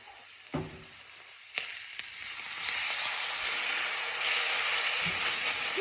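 Continuous sizzling of coral mushrooms frying in a pan, punctuated by a few utensil clanks and scrapes, growing slightly louder partway through.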